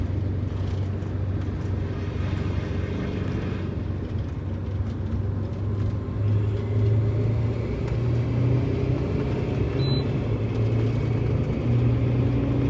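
A Prevost bus with a Detroit Diesel 8V92TA engine rolls downhill, a steady heavy low diesel rumble and road drone heard from inside, continuous and unbroken with slight swells in pitch.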